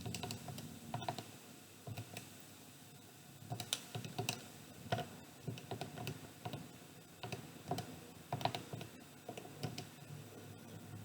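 Numbers tapped out on a calculator or computer keyboard during a standard deviation problem, with quick irregular clusters of light key clicks, close and quiet, separated by brief pauses.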